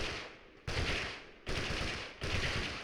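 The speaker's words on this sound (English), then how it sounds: "I will now demonstrate various attempts at gunfire" Gunfire in the video game Totally Accurate Battlegrounds: three loud, abrupt bursts of rapid automatic fire, each starting sharply and trailing off, spaced about three-quarters of a second apart.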